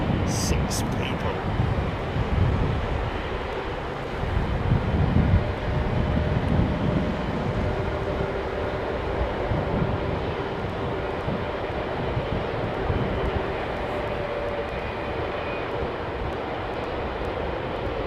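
A Boeing 777 at London Heathrow Airport, a broad steady jet engine roar holding throughout with some wind noise, while people talk over it.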